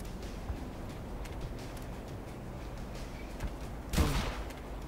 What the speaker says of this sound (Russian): Я не понял даже, откуда это был выстрел.